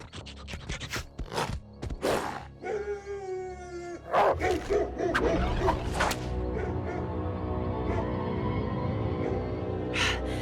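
Slughounds from the Slugterra cartoon bark and snarl in a loud, busy cartoon soundtrack, with sharp repeated bursts early on, then a dense wash of growling and action noise.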